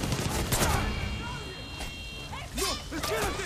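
Far Cry 6 gunfire crackles in rapid bursts and scattered shots, with whooshes and clatter, while a person talks excitedly over the action.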